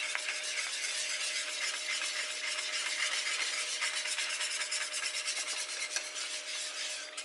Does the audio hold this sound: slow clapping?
no